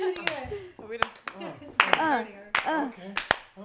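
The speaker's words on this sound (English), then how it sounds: "That was slow clap." A handful of sharp hand claps in a slow clap, spaced out irregularly, interleaved with people talking animatedly nearby.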